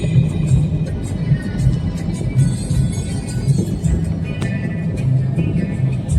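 A car climbs a winding mountain ghat road near Dasgaon, with a steady low engine and road rumble heard from inside the vehicle and faint voices in the background.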